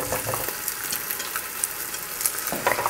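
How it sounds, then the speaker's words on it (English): Carrots and potatoes fry in a pot of Afghan shorwa soup base, a steady close sizzle with soft scraping stirs throughout and no talking. "And you want to stir that around as well."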